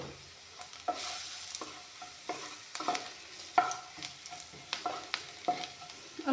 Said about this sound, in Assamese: পিঁয়াজখিনি ভালকৈ ভাজি ল'লোঁ